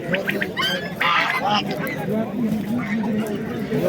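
White ducks and other fowl at a poultry market in Fergana, honking and quacking in several bursts close by, while people talk over the calls.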